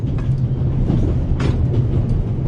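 Interior of a moving train in the video game The Raven, a steady low rumble with faint rattles and a brief hiss of air partway through, continuous and moderately loud with no talking.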